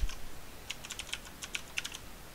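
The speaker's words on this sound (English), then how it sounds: "then I'm going to type print" Quick light typing on a computer keyboard, a brief scatter of crisp key clicks at close range, faint and with no talking.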